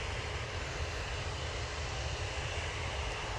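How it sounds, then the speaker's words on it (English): Boeing 787 Dreamliner jet airliner at Manchester Airport, its engines giving a steady, even broadband roar at middle distance with no break across the short stretch. "here's the Dreamliner"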